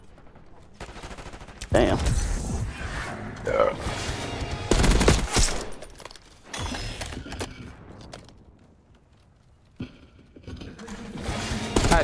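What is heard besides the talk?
gunfire in the Call of Duty Black Ops 6 video game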